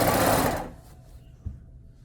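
A sewing machine runs a short, fast burst of stitching along a shirt sleeve joined to the shoulder seam with right sides together, then stops abruptly, leaving near quiet.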